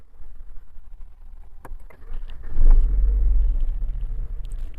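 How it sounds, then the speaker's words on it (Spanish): A BMW 1 Series (E81/E87 generation) cranks and fires up, a deep rumble swelling after a few quiet clicks, then settling into a steady close idle with no talking. "y ahora arranco el coche."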